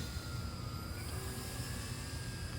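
An E-Flite Air Tractor RC airplane flies at half throttle, its steady faint motor drone far off and continuous under a constant outdoor background hum.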